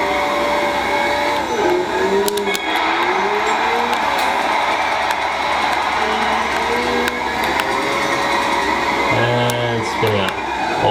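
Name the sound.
Scion FR-S car spinning out in the video game Gran Turismo 5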